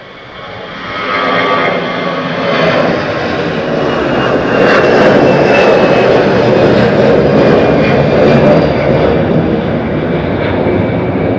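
An easyJet airliner departs Southend Airport, its jet engines building to a loud, steady roar that holds for the length of the climb-out, with no talk over it.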